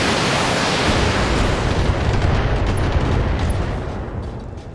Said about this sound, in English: we're going to give him a launch of some missiles at him